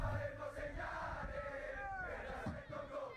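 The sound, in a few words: football fans cheering in a video game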